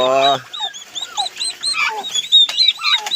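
Turkeys on a farm gobble and chirp in a busy flock at feeding time, with a brief close human voice at the start and many overlapping high, warbling bird calls filling the rest.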